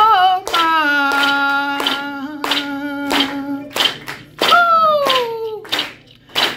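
Rhythmic hand clapping keeps a steady beat beneath a sung chant at an Afro-Indigenous gathering, with voices singing sustained, melodic lines over the repeated claps.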